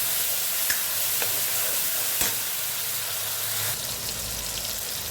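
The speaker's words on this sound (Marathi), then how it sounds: "टॅमॅटो यांना चांगलं फ्राय करून घेऊया" Tomatoes with ginger frying in a pan give a steady close sizzle with a few faint clicks, and no voices.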